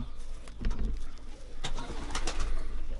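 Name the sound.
racing pigeon number 246 cooing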